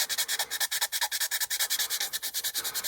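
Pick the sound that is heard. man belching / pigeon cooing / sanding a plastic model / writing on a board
sanding a plastic model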